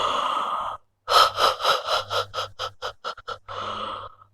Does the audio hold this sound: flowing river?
no